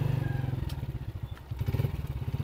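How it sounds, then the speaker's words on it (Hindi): Motorcycle engine pulling up a steep mountain road on the way to Lake Saif ul Malook, a steady pulsing low chug with uneven throttle surges and a little clatter, fairly close and heard alone. "मोटरसाइकिल को ऊपर लेकर जा रहे हैं"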